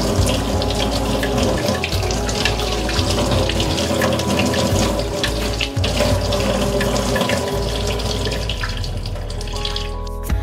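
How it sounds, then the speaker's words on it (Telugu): A tender bottle gourd is washed under a running kitchen tap, with a steady, close splashing of water that continues for the whole stretch and has no talking over it. "ఇది తీసుకొని ఫస్ట్ బాగా వాష్ చేసేసుకోండి అంతా"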